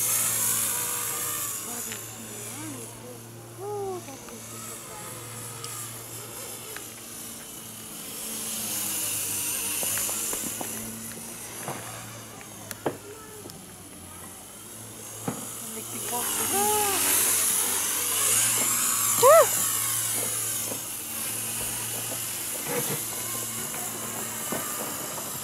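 A Blade 200 SRX remote-control helicopter fitted with new propellers whines and buzzes steadily at a distance, its rotor pitch rising and falling as it flies, while people talk over it.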